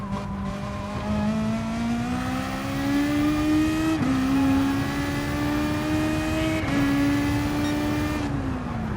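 GR3 race cars lapping the Bathurst circuit in Gran Turismo, engines droning steadily and rising in pitch through the gears, with brief shifts and a continuous loud whine from the pack.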